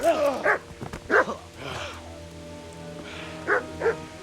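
In the Kingdom Come Deliverance video game, a dog gives a few short barks and whimpers in separate bursts over a soft rain-like background.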